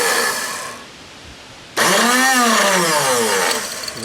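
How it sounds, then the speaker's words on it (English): A Tecumseh 33290E electric starter with a stuck, rusty bendix gives a brief whir, a pause, then a loud high whine that rises and falls as the motor spins freely without the gear engaging. "The motor's spinning, but the gear is not engaging."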